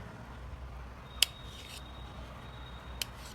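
A boiled egg is sliced into pieces on a board, giving two sharp, isolated clicks of the blade, one early and one near the end, over a quiet room hum.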